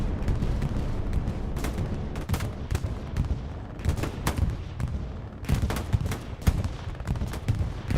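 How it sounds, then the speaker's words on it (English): A bombing run sweeps through in Hell Let Loose during a 49v49 match at Foy's southern edge, producing repeated heavy blasts and rumbling impacts alongside bursts of gunfire, loud and continuous. "Bombing run goes through Southern Edge."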